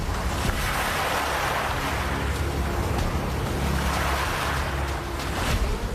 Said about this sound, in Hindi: समंदर का उफान रास्ता रोके खड़ा था